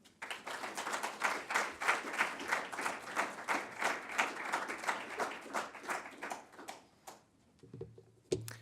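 A small audience claps to welcome speaker Ian Houston, individual claps distinct and rhythmic, fading out after several seconds, followed by a faint thump at the end.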